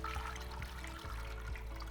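About 3.5 litres of cold water is poured into a pot holding a whole chicken for pho, giving a steady trickling and splashing flow with a low rumble, heard alone and fairly faint.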